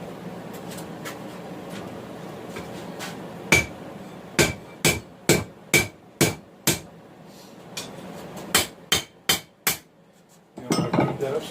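Hammer striking hot steel on an anvil while forging a farrier rasp knife, a run of sharp ringing blows in quick rhythm, loud and close, with a brief pause and scraping at the end.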